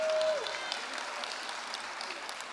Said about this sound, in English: Clap for them for me.